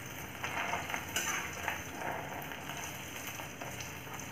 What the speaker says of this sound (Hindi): ध्यान रहे, एकदम ऑयल गरम होना चाहिए और हाई फ्लेम पे हम ब्रेड को डालेंगे और दोनों साइड से गोल्डन ब्राउन करके निकाल लेंगे